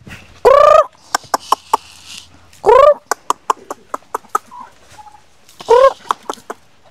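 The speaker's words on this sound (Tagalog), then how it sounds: "Daming manok na." Chickens at a grandmother's farm cluck and crow in bursts, with loud squawking calls near the start, middle and end and rapid sharp clucks scattered between them, close by and without talk.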